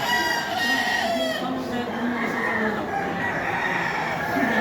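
A rooster crows steadily and loudly through the clip over a busy, noisy outdoor background.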